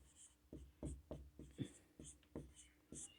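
Chalk or marker writing on a board during an English grammar lesson, making a series of short scratchy strokes in an uneven rhythm, quiet and close, with no speech.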